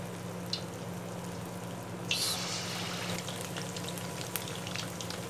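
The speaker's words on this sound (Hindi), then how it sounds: "अब चलते हैं जी इसको फ्राई करने की तरफ" Chicken lollipops frying in hot oil, a steady close crackling sizzle with scattered pops and a low background hum, no voices.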